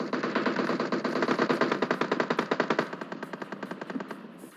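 Rapid automatic rifle fire from a video game, a steady burst of evenly spaced shots rattling for several seconds and tapering slightly toward the end, with no talking.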